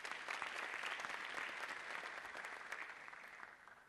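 Audience applause for a scholarship recipient at an awards ceremony, dense even clapping from a crowd, somewhat distant, easing off toward the end.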